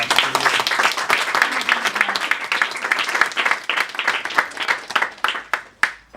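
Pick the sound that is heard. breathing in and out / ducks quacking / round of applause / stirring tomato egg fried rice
round of applause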